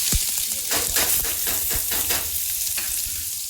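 Chopped onions and cumin seeds fry in a hot pan, a steady close sizzle broken by several sharp scraping stirs, with no voices.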